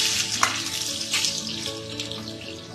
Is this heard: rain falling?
no